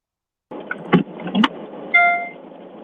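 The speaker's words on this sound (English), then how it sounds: "I think your car's arrived, Anton, by the sounds of it." A car pulls up close by, with clunks and a brief tonal whine like a door or power window, alone and fairly loud over a steady low engine rumble lasting a couple of seconds.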